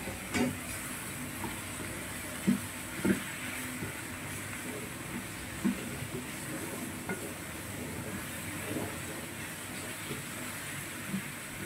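Mushrooms being stirred with onion, garlic and ginger in a pan, a faint low sizzle with a few soft scrapes and knocks of a spoon, no voices.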